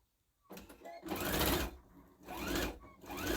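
A sewing machine fitted with a jeans needle stitches through vinyl in close, loud bursts of rapid mechanical whirring, broken by short pauses, with no talking.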